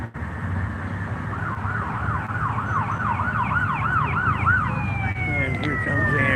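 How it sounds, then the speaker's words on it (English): An Indianapolis ambulance siren wails in repeated rising-and-falling cycles over a steady engine rumble, then shifts to a long falling tone near the end. "And here comes the ambulance."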